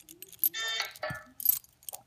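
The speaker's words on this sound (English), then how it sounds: "These are my elevator keys here." A ring of elevator keys, including Dover and Adams panel keys, jangles in bursts of bright metallic clinking, close up and with short pauses between shakes.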